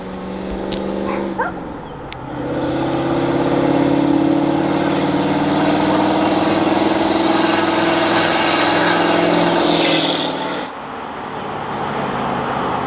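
A diesel truck with a 6.9 IDI engine and a NASCAR-style exhaust revs up, holding a loud, sustained high-pitched roar with whiny tones for several seconds before dropping back to a rough idle, no talking.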